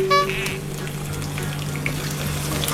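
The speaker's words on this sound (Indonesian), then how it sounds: "Nah, ini digoreng sampai harum" Shallots frying in hot oil in a pan, a steady close sizzle that begins with a short tonal squeal and settles into an even hiss.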